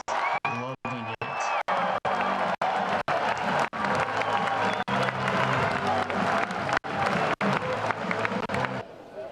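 Baseball crowd at a college game in Auburn cheers and applauds after an RBI single, a steady roar of claps and shouts, chopped by repeated sharp cuts, with a voice talking over it.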